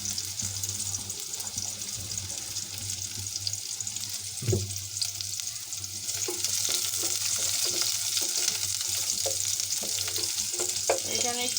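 Chopped garlic, onion and green chili fry in hot soybean oil in a pot before beef goes in, giving a continuous close sizzle that grows louder and busier midway, with occasional utensil knocks and stirring.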